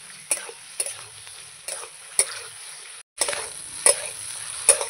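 Spices and potatoes are stir-fried in a pan: a quiet sizzle runs underneath while a spatula scrapes and knocks against the pan in regular strokes about every half second, with a short gap near the middle.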